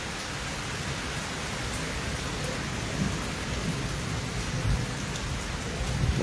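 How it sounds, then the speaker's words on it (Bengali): A heavy downpour roars steadily during a thunderstorm, with low rumbles of thunder rolling under the constant loud rain and no voices. "দেখতে পাচ্ছেন কিভাবে বিদ্যুৎ চমকাচ্ছে, প্রচণ্ড বেগে বৃষ্টি হচ্ছে"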